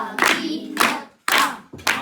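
Hands clapping during a pakhavaj lesson, keeping time with the drum syllables of the rhythm: four sharp bursts in an uneven beat, loud and close, with no talk over them.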